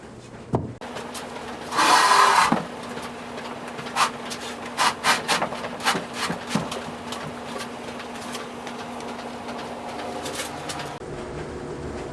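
A plumbing cutout is made in a wooden laundry cabinet, with a burst of rough sawing or rasping followed by a series of short scraping and knocking strokes against the wood, heard close up without speech.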